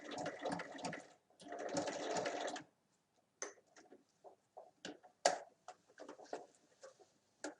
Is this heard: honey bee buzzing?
no